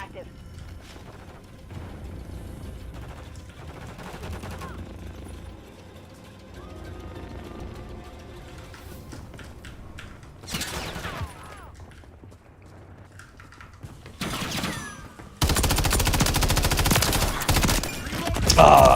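Gunfire in the video game Call of Duty Modern Warfare 3: scattered shots and short bursts give way to loud, dense sustained automatic fire near the end, over quieter in-game ambience.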